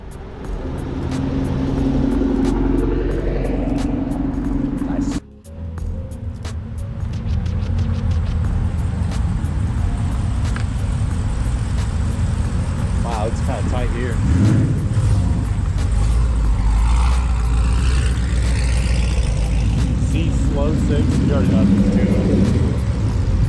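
Cars and Coffee meet in Columbus with McLaren and Ferrari supercars on display: a steady crowd-and-traffic din with engines idling and revving at a distance, under continuous talk nearby.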